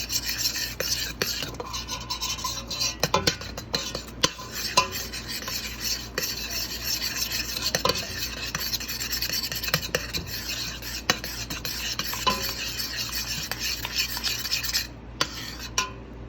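A spoon stirs a thickening keto cherry compote in a pot, a steady run of soft scraping and clinking strokes against the pot's sides, with occasional sharper taps, close and continuous with no one speaking.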